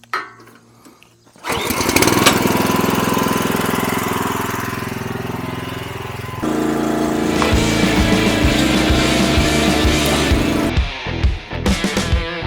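A warm small gasoline engine on a Champion 40-ton log splitter catches after a brief pull and settles into a loud, steady close-up running drone, shifting pitch midway, then sputters with uneven pulses near the end.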